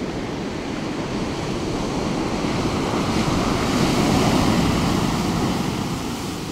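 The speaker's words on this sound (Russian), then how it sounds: "Это вот просто такой накат у берега." Sea surf rolling onto the shore of a remote wilderness coast on a calm day with little wind, a continuous loud wash of breaking waves building slightly midway, with no voices.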